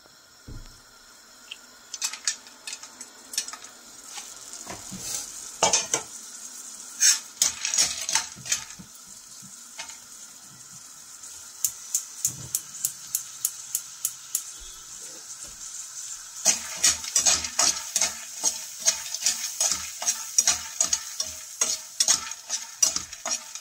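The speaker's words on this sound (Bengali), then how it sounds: "সবগুলো ডালের বড়ি আমি ভেজে নেব এখানে" Lentil dumplings (bori) frying in oil in a pan and being stirred: a continuous bright sizzle runs underneath repeated sharp scraping clicks of a utensil against the pan, sometimes in quick bursts, close and fairly clear, with no talking.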